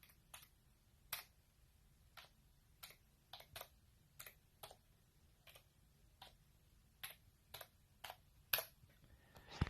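Keys on a computer keyboard are tapped one at a time in an irregular rhythm, with sharp, fairly faint clicks and gaps between them in a quiet room.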